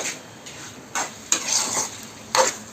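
Chicken stirred in a hot pan for a Sunday chicken recipe, with a steady close sizzle and several scraping stirs of a spoon against the pan, and no talking.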